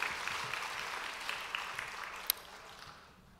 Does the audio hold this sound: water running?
no